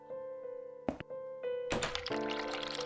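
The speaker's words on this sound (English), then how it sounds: "Turn cold water on to..." Water gushes from a sink tap in the video game The Cat Lady, a dense broadband rush that starts abruptly after a couple of soft thunks and keeps running steadily over a low droning musical background.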